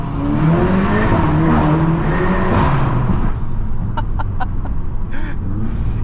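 A tuned VW Golf GTI Mk8 driving on Boston streets, its engine revving loudly and then dropping off into a quick series of sharp exhaust pops and crackles, heard close and clear with no talk.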